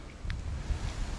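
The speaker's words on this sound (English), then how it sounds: "it's windy, nice breeze, cool breeze blowing" Wind rumbles steadily against the microphone outdoors on a hilltop at Paradise Falls, a low continuous buffeting gust with no voices.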